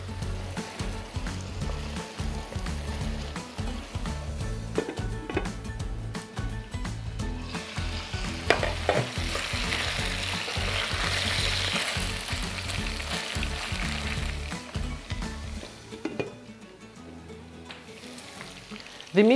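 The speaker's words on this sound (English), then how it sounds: "continue to cook until the meat is well browned on all sides" Meat browns in a pot for African-style hotpot potatoes, giving a steady close sizzle and crackle with occasional scraping stirs that swell briefly in the middle, with no talking.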